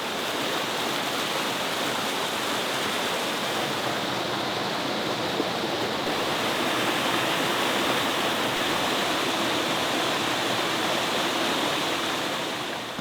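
A rushing mountain stream pours over rocks along the Appalachian Trail in the Grayson Highlands, a steady, dense, close roar of water that holds unchanged and uninterrupted throughout.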